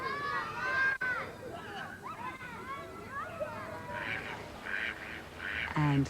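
Ducks quack outdoors in a botanical garden, several rapid quacking bursts clustered toward the end over a busy background of water and faint voices.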